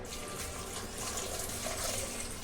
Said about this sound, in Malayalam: വെള്ളോട് ഒഴിക്കുകയാണേ